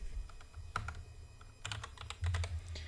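Fast, uneven clicking of keys on a computer keyboard while code settings are entered, a run of sharp close taps with short pauses, alone with no voices.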